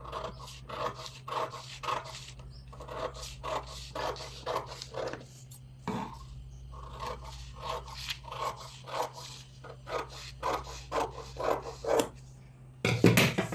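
Scissors cutting out a sleeve pattern for a blouse, heard as a long series of crisp close snips in a fairly regular rhythm, with a few short pauses and a louder rustle at the end.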